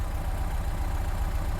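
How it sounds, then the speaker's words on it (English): A VW T25 camper van engine idles warm, a steady, smooth low rumble that runs evenly and close throughout. "Idles really nicely when it warms up."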